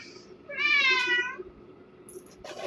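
A house cat gives a single drawn-out meow, close and clear, with quiet room noise around it and a faint rustle near the end.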